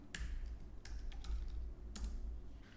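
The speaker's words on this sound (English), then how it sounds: "And now we can type something." Quiet typing on a computer keyboard while entering text into a text frame in layout software, a few soft clustered key clicks over a steady low hum, with no talk.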